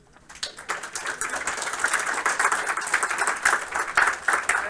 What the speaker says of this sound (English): Another round of applause for Kyle and Ivan and Ian.